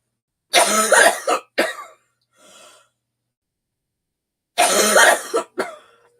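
One person coughs in two harsh bursts, each a hacking cough followed by a short catch of breath, close up with silence between.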